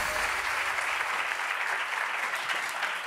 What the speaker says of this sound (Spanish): Un aplauso para los árbitros